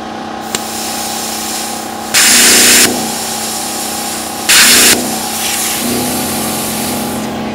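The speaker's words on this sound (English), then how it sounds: "the plasma cutter is too much for the generator" A plasma cutter running off a generator that can't handle the load: a steady mechanical hum with two loud hissing bursts of the cutter arc, each under a second long, close by.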